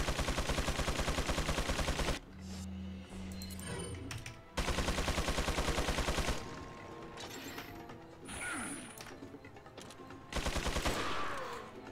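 Sustained rapid minigun fire in Resident Evil 4 (Ada's Assignment), loud dense bursts in three long stretches separated by quieter gaps of other game sounds, with no talk.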